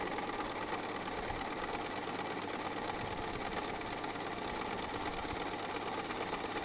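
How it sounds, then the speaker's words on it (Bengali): An electronic Butterfly sewing machine runs a triple stitch in one continuous, steady, close-up mechanical whir with a fast rhythmic needle chatter and no pauses. "এটা হচ্ছে 3বার সেলাই।"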